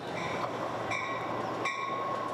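A Pacific Surfliner passenger train rumbles through Oceanside station on a busy rail corridor, its steady roar close and loud, with wheels squealing and metallic screeches rising above it.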